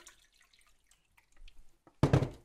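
A cup of water poured into a mixture of eggs, onion and flour for schnitzel batter, a short close splash that arrives suddenly after faint clicks and quiet handling sounds.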